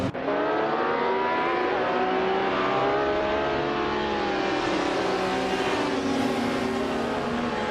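Group 5 race cars, including a 1979 BMW M1 E26, accelerate off the grid in a racing game, with several loud engines revving and climbing through gears together, continuous and close.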